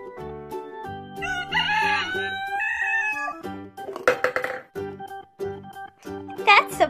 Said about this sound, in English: Blue rooster.